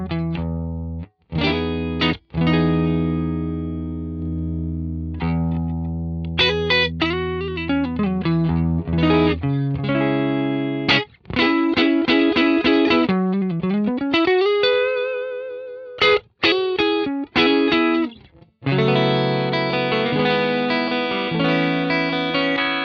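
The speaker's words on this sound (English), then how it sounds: "Let's have a listen to the Vibrolux now. You'll hear what I mean about the Vibrolux sort of being a perfect Fender clean sound." A clean electric guitar through an Axe Fx III modelling a Fender Vibrolux amp plays chords and melodic lines with sustained ringing notes, chorus-like shimmer and short pauses between phrases, loud and alone for over twenty seconds.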